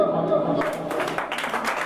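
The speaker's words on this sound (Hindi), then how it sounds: "तालियां कमजोर है" Audience at a mushaira poetry gathering clapping, a modest, scattered patter of applause that grows a little denser toward the end, with a voice talking over it.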